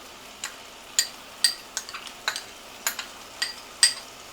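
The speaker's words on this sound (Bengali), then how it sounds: "আপনারা দেখতে পাচ্ছেন আমি টক দইটাকে ফেটিয়ে নিচ্ছি" Sour yogurt whisked in a bowl for paneer korma, heard as sparse, sharp clicks and scrapes of the whisk spaced irregularly against the bowl, fairly quiet and close, with no voices.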